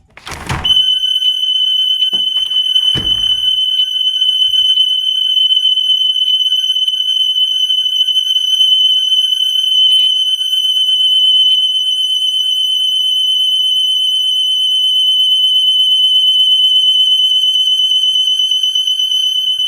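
An ADT Impassa home security alarm siren blares a loud, piercing high-pitched tone continuously, preceded by a few thumps and clunks at the start, then holds steady without pause.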